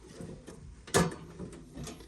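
The door of a Siemens 200-amp electrical panel pops open with one sharp metallic clunk, surrounded by quieter rattles and faint handling noises at close range.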